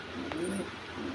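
A hungry female pigeon gives a short, low, throaty coo up close, one rolling call that is fairly quiet against faint background noise.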